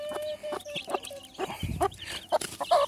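A hen clucks repeatedly close by while her chicks feed in a corner of a brooder pen, with soft peeps and scratching mixed among the steady, uneven clucks.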